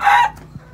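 A fighting cock, a fine spur-and-beak breed rooster, lets out one short, loud crow lasting a fraction of a second, close up, followed by a faint low sound and quiet.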